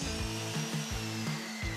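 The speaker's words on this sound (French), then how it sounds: "Glissez la scie plongeante petit à petit vers le bord de la planche, sciez un peu à chaque fois jusqu'à atteindre la fin." A plunge saw cuts into a wooden board in short repeated passes, its motor whining steadily while the blade loads and eases in a regular rhythm, close and fairly loud.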